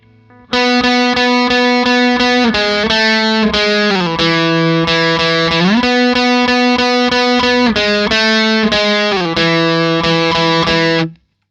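A distorted electric guitar plays a slowed-down riff from a song, sustained, bending notes at steady volume, close and loud, with no other sounds.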